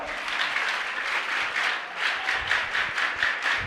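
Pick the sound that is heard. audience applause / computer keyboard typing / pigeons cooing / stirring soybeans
audience applause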